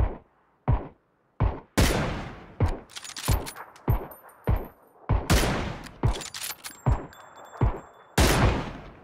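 Gunfire in PUBG: repeated sharp shots and short bursts, loud and close, some in quick clusters, with brief gaps between volleys and no talk.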